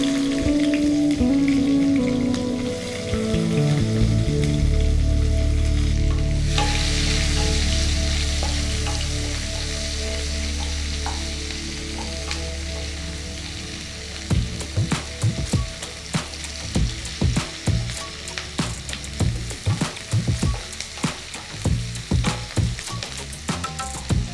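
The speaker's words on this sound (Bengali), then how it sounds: "পেঁয়াজটা হালকা ভাজা হয়ে গেছে" Chopped onions fry in oil with cardamom, cinnamon and cloves for a duck egg kalia, a loud steady sizzle that later gives way to rapid scraping and clattering of a spatula in the pan.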